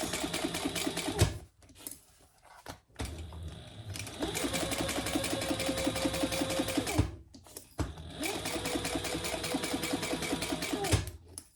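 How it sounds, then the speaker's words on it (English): Sewing machine back-stitching a fabric cover for a composition notebook, running in two long steady bursts separated by short pauses, close and loud with no talk. "I just back stitched over where that connects."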